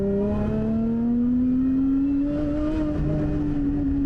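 A tuned 460 hp Lotus Emira's rear-mounted engine drones loudly and steadily climbs in pitch as it revs toward 7000 rpm, heard from inside the car with a constant rising whine.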